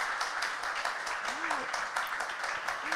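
An audience at a clean energy forum for EU islands claps, a steady patter of many hands at moderate distance, with a voice speaking over it.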